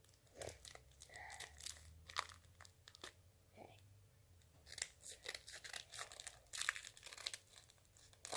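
A Christmas present is cut open and unwrapped close up, with crisp crinkling, tearing and crunching of wrapping and packaging in irregular bursts, as people talk now and then.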